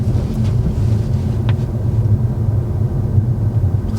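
Car engine held under light throttle during a driving lesson, a steady low rumble running the whole time with no obvious revving, heard from inside the cabin, with a brief faint click partway through.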